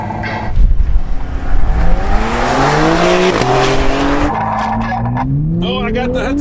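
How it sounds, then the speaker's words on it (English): A Porsche 911 launches in a drag race alongside a Ford Mustang and Nissan Z, engines revving loudly and rising through gears with tire squeal, close and strong, with a voice speaking over part of it. "Oh, he got a good launch, but not as good as the 911."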